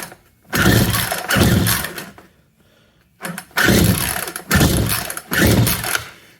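A Craftsman chainsaw's small engine cranks and sputters to life in repeated loud revving bursts, with brief pauses between pulls.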